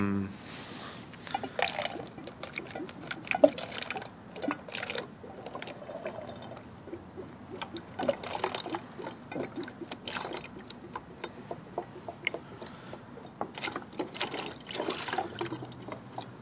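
Water swirling and draining in a vortex between two joined 2-liter plastic bottles, with soft trickling, gurgling and bubbling at close range, set against steady background noise.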